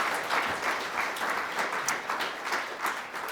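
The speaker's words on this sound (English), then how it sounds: "Round of applause to our living local legends." Audience applause at the close of a conference session, a steady sustained wash of many hands clapping at moderate volume with no talk over it.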